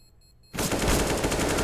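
Sustained automatic AK-47 fire in a competitive shooter game match bursts in after half a second of near silence and rattles on loudly and continuously to the end.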